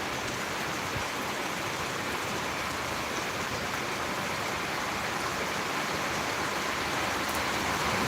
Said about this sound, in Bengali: এখন আর তাড়ানো যাচ্ছে না প্রচণ্ড বৃষ্টি হচ্ছে